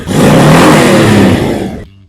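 A 2025 Honda Fury motorcycle engine revs hard in one short, loud burst that holds for a moment and then cuts off abruptly.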